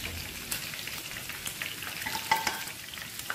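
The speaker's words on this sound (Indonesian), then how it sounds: "kita tunggu sampai si ayam gorengnya matang sempurna ya, atau berwarna kecoklatan" Chicken frying in hot oil in a pan, a steady sizzle and crackle with scattered sharper pops, close and moderately loud.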